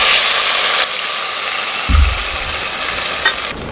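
A spoon stirs a besan, semolina and potato batter continuously in a hot pan over a medium flame, giving steady close scraping and sizzling with a few sharper knocks against the pan.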